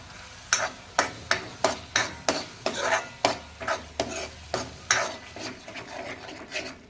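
Masala paste and curd stirred in a pan for chole masala, a rhythmic series of about fourteen sharp spoon scrapes and taps against the pan over a faint sizzle, close and clear with no talk.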